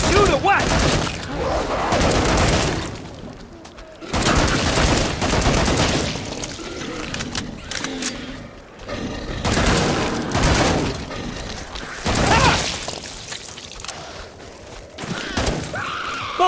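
Gunfire from the Killing Floor 2 video game, dense repeated shots and bursts running through most of the stretch, loud and close, with a voice talking at points.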